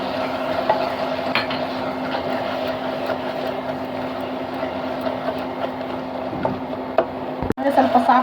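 Peas with ginger garlic paste stirred in a cooking pan, a close continuous scraping and soft sizzle with a steady hum, ending in a sharp clatter of utensil against metal.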